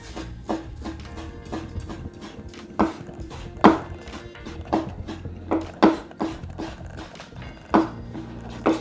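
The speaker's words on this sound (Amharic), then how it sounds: "ከዛም እንግዲህ ስጋችንን ሲበርድልን እንደዚህ አድርገን መክተፍ ነው።" A knife chops cooled boiled meat for Ethiopian tikul on a board, giving a steady run of sharp, close knocks at an even rhythm with no talk.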